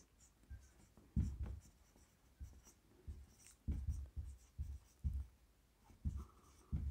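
A pen writes on paper in short, close scratching strokes with uneven pauses between them, quiet but clear, and no one speaks over it.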